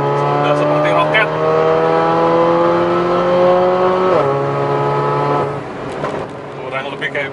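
A Mercedes-AMG GLA 45 launches hard from a held-brake start, its engine note climbing steadily in pitch, a sharp drop at a gearshift, then revving on before easing off, loud and close with someone talking over it.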